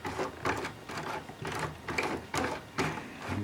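Sewing machine making single stitches in short bursts, about seven evenly spaced whirring pulses, each followed by the machine cutting the thread, close and clear with no talking.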